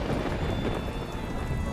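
Heavy cartoon rain pours down in a steady, dense roar that stays loud and unbroken the whole time, with no voices over it.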